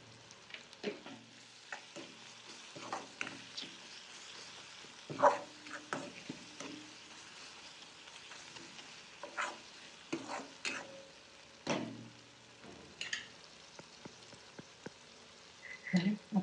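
Onion curry frying in a pan with dal and garam masala, a spoon stirring through it in scraping strokes over a steady soft sizzle, close by and moderately quiet, with no talking.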